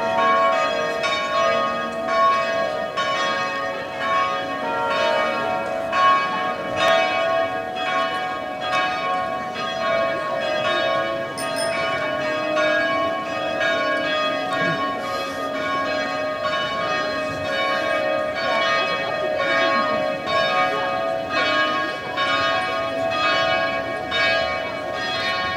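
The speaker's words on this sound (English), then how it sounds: "heard the church bells" Church bells ring steadily and continuously, overlapping peals with a bright, resonant tone and no voices.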